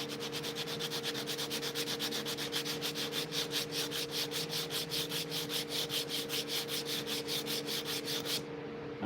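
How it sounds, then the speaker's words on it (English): A wooden sheath is hand sanded in steady, even back-and-forth strokes, a quiet rhythmic rasp that repeats at a regular pace and stops near the end. "the hand sand will kind of get you to a flowing curve"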